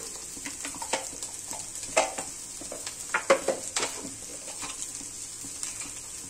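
Green chilies and spices frying in a pan while cooking an egg devil dish; a faint, steady sizzle with light scraping and clinking of a utensil against the pan.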